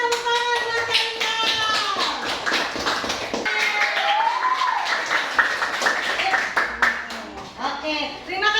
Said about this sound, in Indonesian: tepuk tangan buat Kaisa.